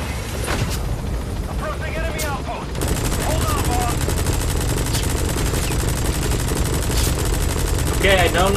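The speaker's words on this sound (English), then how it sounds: "Okay, I don't know what is shooting me, but I'm being shot." Rapid machine-gun style gunfire in the video game Metal Gear Solid V, sustained bursts of loud shots over a dense battle backdrop, with someone speaking over parts of it.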